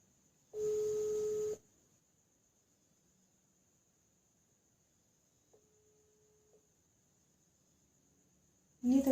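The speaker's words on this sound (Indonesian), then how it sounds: "Ini teleponnya nggak diangkat-angkat sama Putri" A telephone call rings out unanswered: a single ring tone followed by a long silence, then a short faint tone, with a voice starting just at the end.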